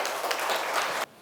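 Audience applause welcoming a professor to the podium at a Catholic bishops' conference ecology symposium, a dense broadband wash of clapping that holds steady for about a second and then cuts off abruptly.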